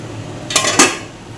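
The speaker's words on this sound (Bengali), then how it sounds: "এবার আমি ঢাকাটা খুলে নিলাম।" A metal lid lifts off a pot of cooking chicken curry, giving two quick clanking scrapes of metal on metal close by, with a soft room hum around them.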